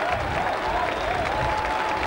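A rugby league crowd at a Workington Town match after a try, a dense roar of cheering and applause with a faint rising-and-falling sung chant running through it, steady and loud throughout.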